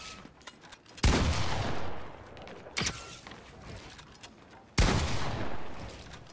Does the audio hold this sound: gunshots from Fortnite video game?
yes